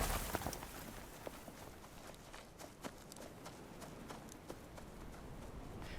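Horses walking near the North Sea coast give a soft, irregular clip-clop of hooves, a handful of distinct hoof strikes over a faint outdoor background.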